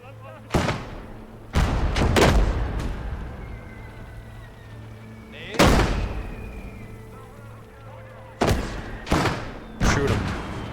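Gunfire and explosions in a video game, a series of sharp, loud booms spaced a few seconds apart, with players talking between the blasts.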